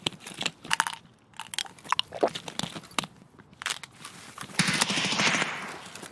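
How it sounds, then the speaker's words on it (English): Pistol gunshots in a video game, sharp close cracks fired in irregular bursts with short gaps between them, followed by a denser burst of noise near the end. "Shoot my pistol a little bit."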